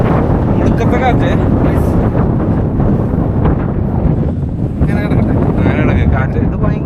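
A fierce wind buffets the microphone on the bare rock summit of Madhugiri's giant granite monolith, a loud continuous rushing roar with no breaks, and voices occasionally rise through the noise.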